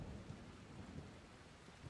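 Steady rain with rolling thunder in the zombie game Dying Light, a dense continuous wash of downpour and low rumble, quiet and alone without voices.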